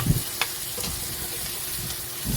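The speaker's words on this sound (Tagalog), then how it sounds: "Prituhin lang muna natin para medyo mag-brown po siya." Soy-marinated pork chop frying in a pan until browned, a steady close sizzle with a few brief clicks and stirring scrapes, no voices.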